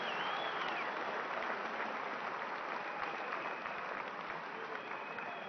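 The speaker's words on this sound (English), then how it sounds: "I'd like us to give them a standing ovation. Let's applaud them because they ran a fantastic election." A large audience at a political thank-you event applauds steadily in a standing ovation, dense continuous clapping that stays loud throughout.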